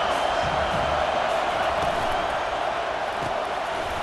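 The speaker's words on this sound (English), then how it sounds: "The roar of the crowd trying to fuel this defense to keep them pinned in their own end." A dense, steady stadium crowd roar fills a College Football 25 video game broadcast, continuous and loud throughout without breaks.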